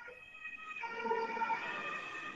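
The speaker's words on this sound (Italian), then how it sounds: "C'era una volante, ovviamente, aspettavo che passasse per intervenire." A police car siren wails at a distance, faint and steady, passing by outside a council meeting room, with no voices heard over it.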